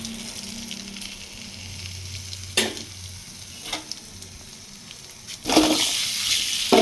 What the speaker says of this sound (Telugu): ఇప్పుడు కోడిగుడ్లు అయితే లైట్గా ఫ్రై చేసుకోవాలి.